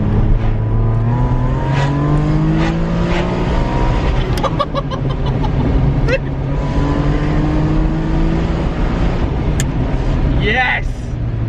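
Ferrari 550 Maranello V12 engine pulling and revving from inside the car, a rising droning tone climbing through gears, with people talking excitedly over it.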